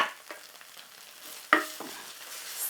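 Fried rice stir-fried in a hot pan after a vegetable stock cube goes in, giving a soft steady sizzle broken by scraping and lifting strokes, with one sharp utensil clack near the middle.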